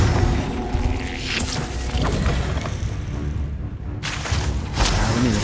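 A Confringo fire spell explodes in the Hogwarts Legacy video game. Loud, booming blasts burst out over a constant rumbling, whooshing game background, with no talk.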